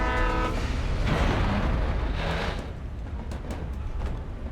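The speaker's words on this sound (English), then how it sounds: "So there's the train." A train rumbles past in the video game Alan Wake, a steady heavy roar with a brief tonal horn blast at the start and no one speaking.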